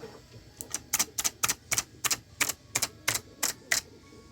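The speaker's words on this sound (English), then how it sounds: "these are Christmas Tree Cake Clickers by Charlotto" A 3D printed Christmas tree cake clicker toy snaps out a quick series of about a dozen sharp, close plastic clicks in a steady rhythm, heard alone.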